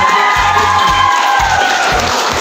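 Schoolchildren at a junior high student council election clapping and cheering loudly together, a dense close crowd roar with rhythmic low thumps pulsing beneath it.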